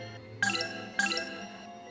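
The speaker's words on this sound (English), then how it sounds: "Magic bell." Magic bell chime in the game Grandia 2: two bright shimmering bell tones, each ringing out with sparkling overtones and a short decay, spaced about half a second apart, heard alone.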